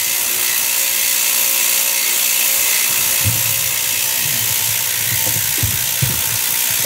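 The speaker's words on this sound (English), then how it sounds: "That's the old ultrasonic cleaner going at it there." Ultrasonic cleaner running with outboard motor parts from a Yamaha Enduro 40 HP inside, giving a steady, loud high-pitched buzzing whine with some lower rattling and clatter underneath, continuous and with no talk.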